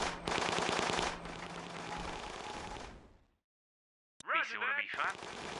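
Machine gunner firing in the strategy game Battle Islands Commanders: a loud, dense burst of rapid gunfire for about three seconds that fades to silence, followed by a short burst of speech.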